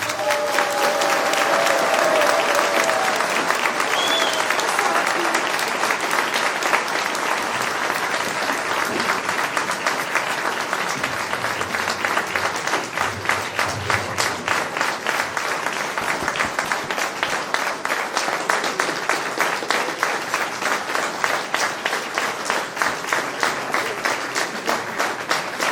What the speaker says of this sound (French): je vous remercie d'accueillir avec vos applaudissements Madame Jacqueline Moreau